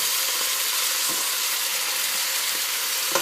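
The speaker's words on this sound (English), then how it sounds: "I already have my beef and my onions in my pot browning" Beef short ribs and onions brown in a soup pot with a steady, close sizzle and frying hiss, with a few faint stirring knocks and no talk.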